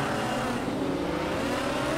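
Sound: race car accelerating at the start in video game Project Cars 2

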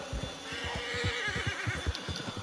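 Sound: horse neighing in Red Dead Redemption 2 video game

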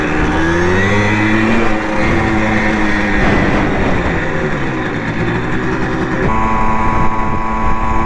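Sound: Simson mopeds riding off

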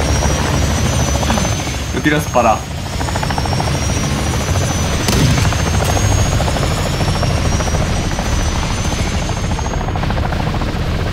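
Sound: helicopter flying in video game Call of Duty Warzone 2.0 DMZ

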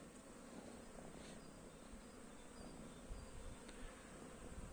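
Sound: bees flying

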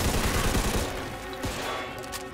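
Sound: Tommy gun fire in video game Mafia II

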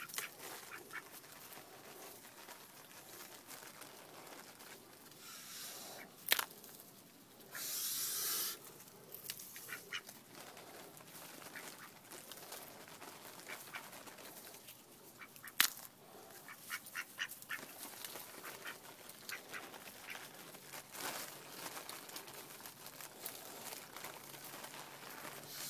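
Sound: ducks quacking

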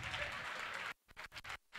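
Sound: audience applause during a training session

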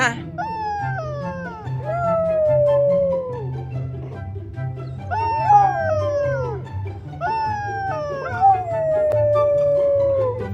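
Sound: dog

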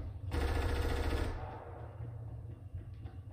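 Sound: gunfire in a video game

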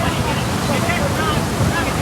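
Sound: fast-flowing floodwater

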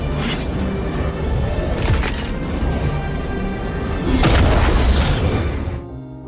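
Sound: explosion sound effect in animation

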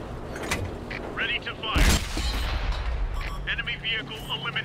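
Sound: tank cannon firing in World of Tanks video game

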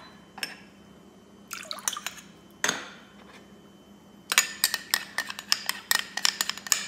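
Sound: glass noodles being put into liquid to soak

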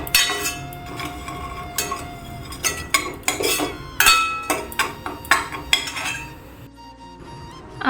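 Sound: frying semolina (suji) in a pan

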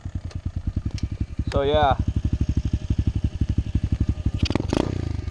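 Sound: SSR 125 pit bike engine warming up

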